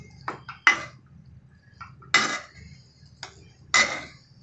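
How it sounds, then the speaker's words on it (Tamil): Cooked yellow pumpkin being mashed in a metal pot for payasam, heard as four or five sharp, ringing clanks of a utensil against the pot, spaced irregularly over quiet background. "வெந்த காயை வந்து இது மாதிரி நல்லா மசிய விட்டுடலாம்"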